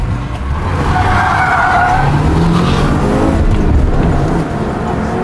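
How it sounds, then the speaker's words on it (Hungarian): A fast car drives hard with its tyres squealing and skidding in a long, loud, continuous screech over steady engine roar, with no voices. "Dániel, ennek az autónak a sebessége meghaladja a futómű képességeit már"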